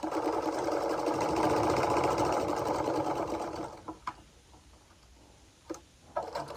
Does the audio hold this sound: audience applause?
no